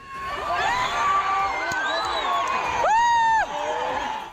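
A crowd cheers and whoops as people run onto a cricket field at the end of a match, with children's shouts and a loud rising cry near the end, steady and close throughout.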